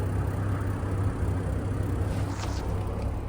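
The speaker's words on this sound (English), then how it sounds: "you can really hear the exhaust there" A 2002 Jeep Grand Cherokee WJ exhaust gives a steady low engine rumble at idle after an engine replacement, constant and close, with a faint airy hiss on top.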